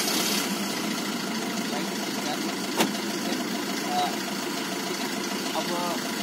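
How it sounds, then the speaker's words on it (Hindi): A car engine idles steadily throughout a driving lesson, a constant mid-pitched hum with a faint rattle, while a voice speaks over it. "क्लच दाब के स्टार्ट करो"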